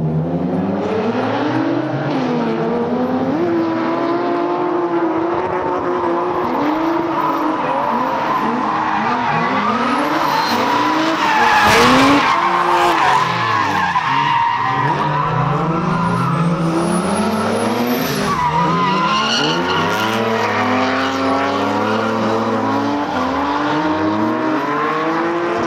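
A drift car at Thunderhill slides with long, wavering tire squeals over a hard-revving engine, loud and close, the screech rising and falling as the car is floored through the run.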